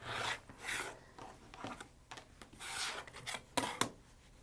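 Quilt fabric pieces for a log cabin block are trimmed with a rotary cutter along a ruler, giving repeated close, dry rasping strokes of varying length with short pauses between them.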